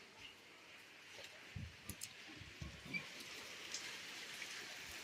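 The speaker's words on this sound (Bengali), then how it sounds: "ওই দেখো বৃষ্টিটা কেমন হচ্ছে।" Rain falls steadily as a faint, soft hiss, with scattered low dull drops and taps close by.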